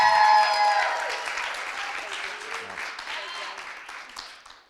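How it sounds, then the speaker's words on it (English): Audience applause for a guest named Jillian at a talk or live Q&A event, a dense wash of clapping that is loud at first and then gradually fades, with some voices and cheers mixed in. "So round of applause for Jillian"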